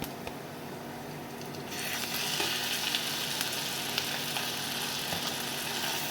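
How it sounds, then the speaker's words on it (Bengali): Ginger-garlic paste frying with browned onions for an egg and potato korma, a steady sizzle that swells louder partway through and continues as a dense, close crackle with light stirring scrapes. "পেঁয়াজের সাথে আমি একে ভেজে নেব।"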